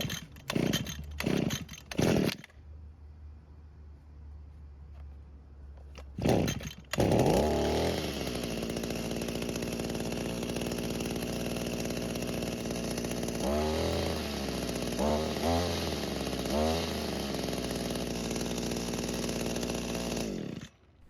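Gas string trimmer engine, a few sharp pull-start attempts before it fires and then runs loud and steady nearby, with brief throttle dips and revs along the way.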